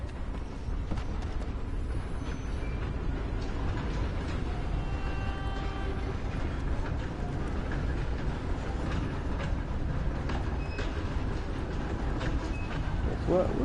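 A train in the Red Dead video game rolls along steadily, with a continuous low rumbling roar, rhythmic clacking of wheels and faint metallic squeals, loud and unbroken throughout.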